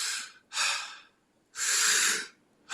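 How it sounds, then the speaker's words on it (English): Rapid, forceful mouth breathing from breathwork: strong airy inhales and exhales alternate in long rushes with short pauses between, close and clear, with no talk. "I do mouth on this one just because I'm intentionally breathing my CO2 down"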